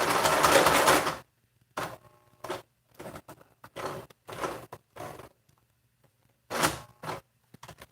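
A sewing machine stitching a fabric face mask runs in a loud opening burst, then in several short, stop-start bursts separated by silences, close and clear with no talk.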